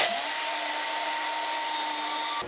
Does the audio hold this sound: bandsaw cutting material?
yes